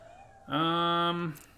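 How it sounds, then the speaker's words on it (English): A house cat gives a single clear, close meow lasting under a second, wanting to be let into a room, with a quiet indoor background. "my cat really wants in this room"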